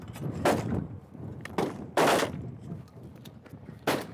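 Four loud shotgun blasts from Stoeger and Benelli shotguns fired at clay targets at the SHOT Show 2014, spaced irregularly over a few seconds, each a sharp crack with a short decaying tail against outdoor background noise.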